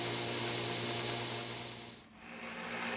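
A 2x72 belt grinder grinds the bevel of a copper cable canister knife, a steady close abrasive rasping hum with a motor tone underneath, dipping briefly as the blade lifts off before resuming.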